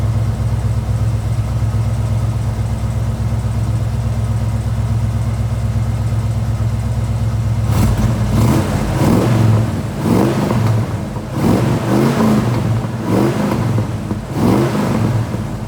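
A 1977 Ford Bronco, frame-off restored with the Ranger package, idles steadily with a low engine rumble, then the throttle is blipped for a series of sharp revs that rise and fall repeatedly in the second half.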